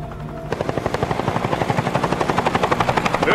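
A helicopter's rotor thumps in a fast, steady pulse, growing up quickly after a quiet start and staying loud and close.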